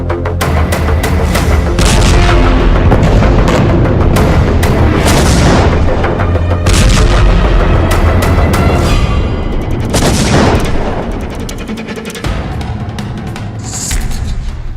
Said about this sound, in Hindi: उत्तरी गाजा में इजराइल के टैंक घूम रहे हैं। जरा सी हरकत पर बमबारी हो रही है।